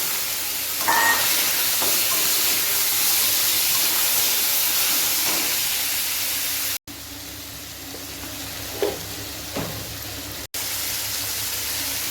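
Potatoes, black cumin and dried chillies frying in very hot oil, producing a continuous close sizzle and hiss with a few brief louder crackles, with no talking.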